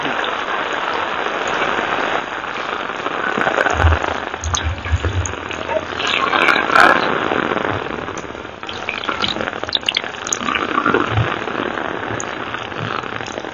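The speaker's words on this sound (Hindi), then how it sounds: "मसनू बारिश का सिस्टम यहाँ पे लगाया गया" An artificial rain system at a zoo in Madinah sprays water in a steady, close hiss of falling droplets. Scattered patters and crackles run through the spray for the whole stretch.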